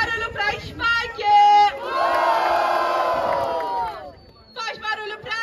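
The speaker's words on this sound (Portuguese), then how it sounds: "Faz barulho pra Spike" At the Batalha do Forte rap battle semifinal in Cabo Frio, the crowd shouts in bursts and then roars in a loud, sustained cheer lasting a couple of seconds. A host's amplified voice is heard before and after the cheer.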